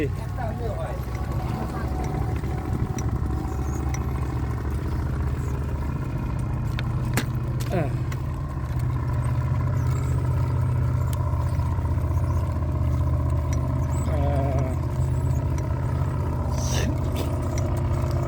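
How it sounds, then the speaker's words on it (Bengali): A trawler's engine drones steadily while the boat works slowly against the current, a continuous low rumble over water noise with people talking nearby. "আমার ডাইন বল থেকে ট্রলার যাচ্ছে, ঠিক করে পানি পাচ্ছে না"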